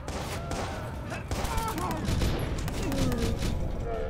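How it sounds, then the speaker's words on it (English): Gunfire in the Watch Dogs video game, a rapid burst of shots and booms running through the clip under a dense mix of game sounds and a voice. "Stop shooting at me, fool."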